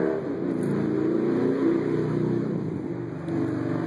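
A neighbor's motorcycle revs steadily nearby, a loud continuous engine roar with slight swells in pitch that holds for several seconds before easing briefly and picking up again.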